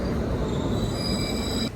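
A train at a railway station gives a steady, close rumble for nearly two seconds, with thin high metallic whines held above it and a sudden drop near the end.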